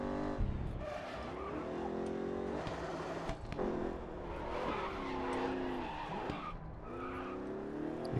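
Car skidding with tyre squeal after a handbrake lock-up in the Grid Autosport racing game, the engine droning steadily throughout as the tyres screech loudly in repeated long slides.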